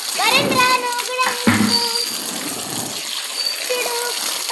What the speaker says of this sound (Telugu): ఇప్పుడైతే మేము నీళ్ళు నింపుతున్నామన్నమాట